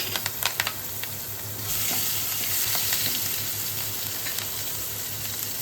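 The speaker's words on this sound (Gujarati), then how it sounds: "આદુ મરચાંના કટકા લીધા છે અને આદુની પેસ્ટ કરી છે એ આપણે એડ કરશું" Ginger and chilli pieces with ginger paste sauté in hot oil alongside asafoetida and curry leaves, starting with a few sharp spits and crackles, then settling into a loud, steady sizzling hiss.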